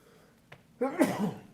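A single sharp sneeze close by during a city board meeting, bursting out after a brief faint intake of breath, with near silence before it.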